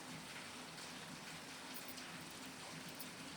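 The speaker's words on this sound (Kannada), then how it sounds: "ಹೊರಗೆ ಮಳೆ ಭಾಳ ಜೋರು ಬರ್ಲಿಕ್ಕತ್ತದ, ಮಳೆ ಸೌಂಡನ್ನು ಇಲ್ಲಿ ಕೇಳಿಸ್ಲಿಕ್ಕತ್ತದ" Heavy rain pours down outdoors, heard from inside a home kitchen as a steady, dense broadband hiss with no breaks, fairly soft and even throughout.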